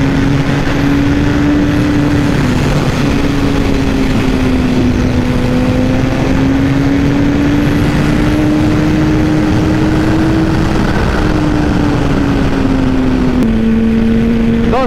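Honda CBR 1000 RR SC57 sport motorcycle ridden on the road, a loud, steady engine drone with a wavering pitch that dips briefly near the end, continuous and close without talk.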